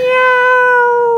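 A cat meows once in a long, drawn-out call, loud and close, with no other sound around it.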